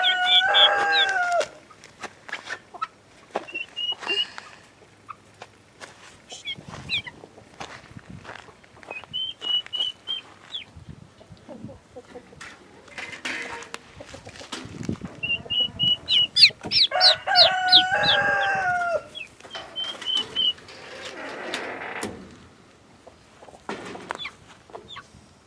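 Chickens clucking and a rooster crowing around turkeys in a farmyard, with several bursts of crowing and scattered clucks, fairly close, plus occasional footsteps and no talk.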